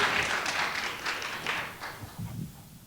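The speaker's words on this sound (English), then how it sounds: "Give a round of applause for our special thanks" An audience at a Poetry Out Loud competition claps in a loose burst of applause that swells and gradually thins out, with scattered taps and a few muffled thumps near the end.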